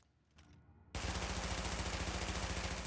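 Submachine gun fire in Tom Clancy's The Division erupts after a quiet moment, a loud sustained automatic burst with rapid, even shots that continue without a break to the end.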